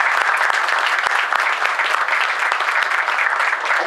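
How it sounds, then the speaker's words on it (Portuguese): Warm audience applause at a railway lecture in Rio de Janeiro honoring a man's 80th birthday, dense steady clapping throughout with a few sharper individual claps standing out. "Então queria uma salva de palmas para o Horta aqui hoje."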